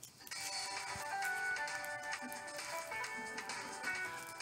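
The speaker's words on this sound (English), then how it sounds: "Your phone is rude." A phone ringtone plays loudly and continuously as a melodic electronic tune, sounding throughout in a radio studio setting with no one talking over it.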